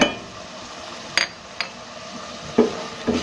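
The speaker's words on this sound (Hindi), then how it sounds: "कीमे को फिर अच्छे से मसाले में भून लेना है" Minced meat frying in spices in a pan, a soft steady sizzle close by with a few sharp clinks and scrapes of a utensil stirring against the pot.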